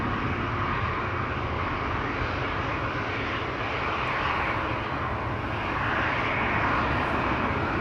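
A jet airliner, such as an Embraer 190 or a Boeing 737, roars steadily and loudly past an airport in Amsterdam Schiphol, a continuous broadband engine rush with no talk.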